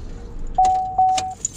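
A bundle of keys jangles briefly and close up, two quick metallic shakes during a vintage Hello Kitty unboxing, with a soft rustle between them.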